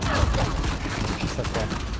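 Rapid gunfire bursts in the Uncharted 4 multiplayer game, dense and continuous over a busy game mix, with voices talking over the shooting.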